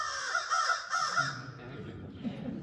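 An American crow caws repeatedly in a rough, rhythmic series, fairly close, while a person talks over it.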